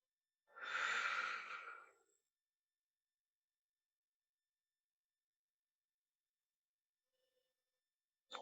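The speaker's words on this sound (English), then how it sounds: "Deep breath in and out." A single deep, audible breath during a restorative postnatal yoga class, drawn in and out close up in quiet, followed by long silence.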